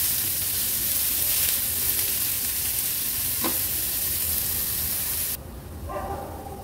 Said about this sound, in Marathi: गॅसची फ्लेम लो करून अगदी लो फ्लेमवर कांदा आपल्याला शिजवून घ्यायचा आहे।